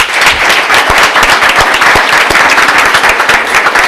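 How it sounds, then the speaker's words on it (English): An audience at a city schools board of education meeting claps loudly and steadily for honored Teachers of the Year, a dense, close burst of applause that continues without talk. "can we give our Teachers of the Year a round of applause?"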